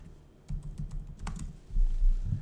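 Computer keyboard keys tapped in quick irregular bursts while typing a job search, close and fairly loud, with a short pause partway through before the clatter resumes.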